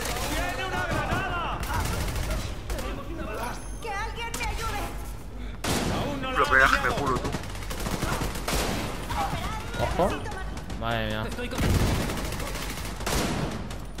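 Rapid bursts of gunfire in the video game The Division 2 crackle throughout, loud and repeated, with someone talking excitedly over the shots.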